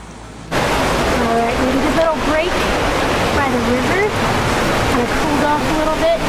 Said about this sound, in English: That river is looking really inviting too.